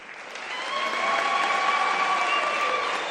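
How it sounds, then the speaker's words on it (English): Applause at an academic-year closing ceremony swells into a broad, sustained wash of clapping from a large crowd, peaking in the middle and easing slightly toward the end. "Can we give our government a round of applause?"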